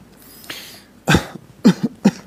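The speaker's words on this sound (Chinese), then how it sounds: "怎么的战术性咳嗽" A person gives a few deliberate, staged coughs close to the mic during a Chinese celebrity variety show: one firm cough, then a quick pair and one more, with quiet gaps between them.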